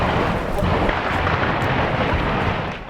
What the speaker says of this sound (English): Volleys of gunfire were being traded in residential streets